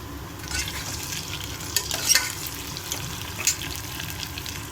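Curry leaves dropped into a pan with tomatoes, frying with a moderate crackling sizzle and a few sharp spattering pops, accompanied by occasional stirring, no talk.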